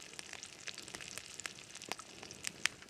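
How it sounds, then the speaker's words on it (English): Small fish fry in a small frying pan during an ice-fishing catch-and-cook, giving a steady close sizzle dotted with sharp crackles and pops for about three seconds, with no voices. "I decided to use a small frying pan"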